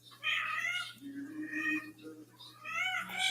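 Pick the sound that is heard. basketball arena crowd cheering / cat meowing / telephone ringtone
cat meowing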